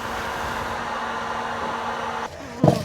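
Heat gun blowing steadily on a Lexus RX 350 headlight, a continuous loud airy roar with a motor hum that cuts off near the end, followed by a brief clunk.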